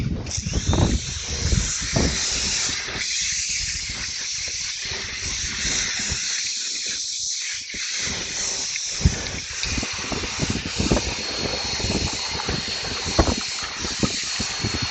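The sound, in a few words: water spray rinsing a car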